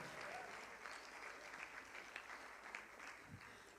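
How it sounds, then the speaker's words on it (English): Applause from the audience at a charity auction rolls through the hall in a steady, even patter of many hands, fairly distant and sustained throughout. "Let's give them a nice round of applause"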